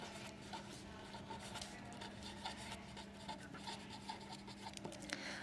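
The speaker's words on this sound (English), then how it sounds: "we draw again with a ruler and a pencil, putting an arrow on" A pencil dragged along a ruler, drawing a line on paper, gives a soft continuous scratchy rub that stays quiet and close, with faint small strokes and no talk over it.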